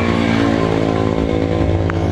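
A Honda Supra X 125 motorcycle, with a failed spool that left the battery drained, idles close by with a steady, even engine drone and no revving.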